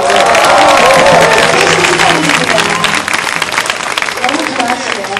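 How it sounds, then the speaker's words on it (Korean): A crowd at a Taekkyon battle match in Jeonju breaks into loud, sustained applause with some cheering for the referee's birthday, a thick wall of clapping that holds steady from start to finish. "여러분 생일 맞으신 분들 박수 한번 부탁드립니다."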